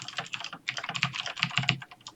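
Fast typing on a computer keyboard, a quick irregular clatter of close, crisp keystrokes with no voices over it.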